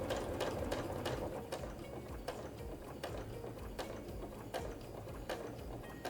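Sewing machine stitching along the length of a quilt while facing it, a steady mechanical whir with a rapid rhythmic ticking of the needle throughout, close and moderately quiet.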